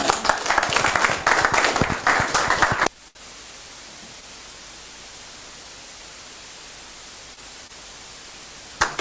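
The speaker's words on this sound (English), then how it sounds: "A round of applause for him one more time" A brief burst of applause and clapping from a virtual meeting audience, rough and compressed through the connection, lasts about three seconds and then cuts to steady faint hiss, with a short flicker of noise at the very end.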